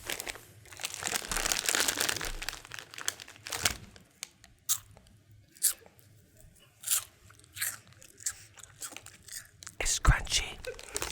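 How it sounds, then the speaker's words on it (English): Crunchy Andy Capp's cheddar fries being chewed close to the microphone, with bursts of sharp crunching and crinkling of the snack bag, some loud and some soft, as a voice speaks quietly in between. "I'm gonna be eating Andy Caps cheddar fries."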